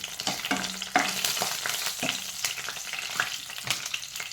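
Dried red chillies frying in oil with chana dal, a steady crackling sizzle with repeated scraping stir strokes throughout, close and fairly loud, no voices.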